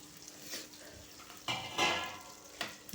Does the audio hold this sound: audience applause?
no